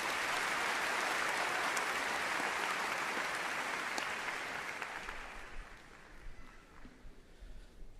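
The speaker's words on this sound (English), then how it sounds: "Please join me in a round of applause" Loud applause from a graduation audience at the Coppell High School Class of 2017 ceremony, a dense sustained clapping that fades over its last few seconds into scattered claps.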